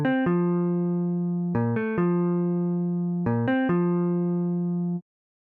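Synthesized chords play back in a melody, sustained bright electronic tones that change in three repeating groups with clean attacks over about five seconds, with no voices.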